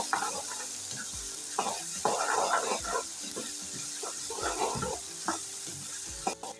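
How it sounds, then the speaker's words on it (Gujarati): Sliced onions sautéing in a pan until light pink for masala khichdi, close crackling sizzle with repeated spatula strokes and scrapes against the pan, a soft clank near the end, no talking. "હવે આ ને આપણે આછો ગુલાબી કલર ના થાય ને ત્યાં સુધી આ રીતના શેકી લઈશું"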